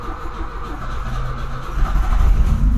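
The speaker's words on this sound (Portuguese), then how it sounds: "Dá a partidona ali pra ver se o bagulho chama." An alcohol-fuelled carburetted Volkswagen Voyage engine cranks and catches, a steady low rumble building to a louder, rougher run toward the end, close and without speech.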